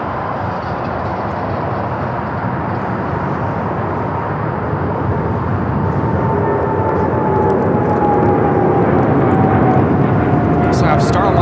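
Polar Air Cargo 777 freighter operated for DHL takes off from Los Angeles airport, a steady loud jet roar that swells slowly over the whole stretch, with a faint rising engine whine and voices talking underneath.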